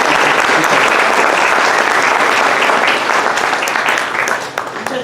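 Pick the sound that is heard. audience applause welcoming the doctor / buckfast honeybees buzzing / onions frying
audience applause welcoming the doctor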